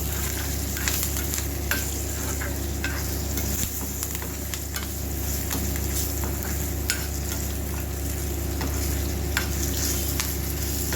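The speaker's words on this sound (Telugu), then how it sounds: "ఇంగు వేస్తున్నానండి ఇంకో ఆయిల్లో బాగా ఫ్రై అవ్వాలి" Asafoetida tempering sizzles and fries in hot oil with curry leaves, a steady close crackle with occasional stirring clicks throughout, no talking.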